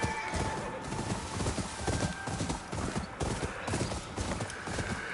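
A horse's hooves clop steadily at a run in the Ghost of Yotei video game, a continuous rapid galloping rhythm over a dense ambient bed, with a faint whinny surfacing among the hoofbeats.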